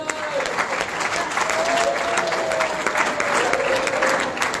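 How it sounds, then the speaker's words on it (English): A church congregation at a Saturday night holiness service claps along steadily, with sustained hand clapping mixed with crowd voices and a singing tone beneath. "clap your hands and praise him"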